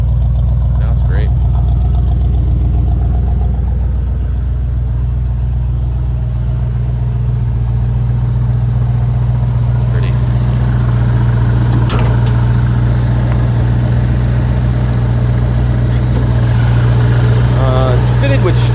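A 1974 Ford Bronco with a 302 V8 and a small, lumpy cam idles loud and close, a steady deep rumble with a slightly uneven pulse, and someone talks now and then over it.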